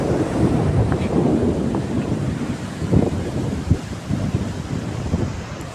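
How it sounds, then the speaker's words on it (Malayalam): Strong sea wind buffets the microphone in a steady, roaring rush, with occasional louder gusts and thumps along the coast near Ratnagiri, heard while cycling beside a harbour with boats; no talk. "കടലിൻ്റെ ഉള്ളിലേക്ക് കയറിയപ്പോഴത്തേക്കും കാറ്റ് കൂടി."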